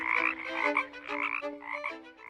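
Frogs croaking in a Bible story of the ten plagues of Egypt, several overlapping ribbed, throaty calls in quick succession, clear and close with no voices.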